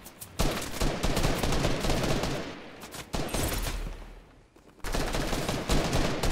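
Heavy gunfire exchanges in a Fortnite match with a sniper nearby: loud, dense bursts of shots in three clusters separated by brief lulls, near and forceful.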